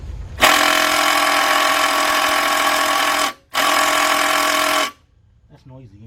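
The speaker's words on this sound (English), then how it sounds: "So I'm going to use my impact driver." An impact driver rattles loud and close as it backs out 17mm bolts on a Chevy Equinox engine, two long hammering bursts split by a brief pause, ending in quiet with faint voice afterward.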